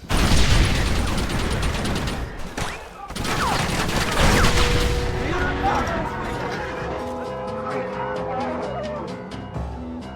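Red Dead Redemption cannon fire booms in rapid bursts during the Gates of El Presidio mission, with clattering battle noise and shouting voices, then sharp metallic shots ring out sparsely.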